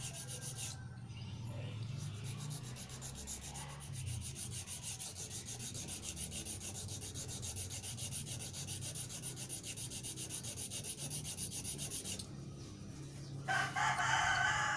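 An iron file rasps steadily across a wooden deer caller, a long run of continuous scraping strokes up close, with a sharper burst of filing near the end.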